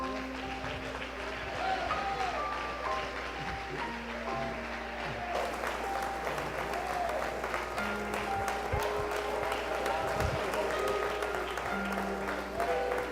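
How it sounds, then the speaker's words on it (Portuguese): A church congregation applauds during a year-end worship service, a long stretch of steady clapping with musical tones and voices mixed in underneath. "Só pode aplaudir Jesus"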